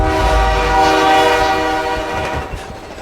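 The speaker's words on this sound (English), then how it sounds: "This is the train they were on when he was fighting Kingpin." A train horn sounds loud and sustained in an animated Spider-Verse film, with rumbling wheels underneath. The horn blares steadily for a few seconds, then fades slightly near the end.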